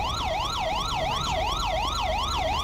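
Police siren from the game GTA 5 with the LSPDFR mod, a steady electronic wail sweeping up and down in a fast regular cycle, loud and continuous with no voices over it.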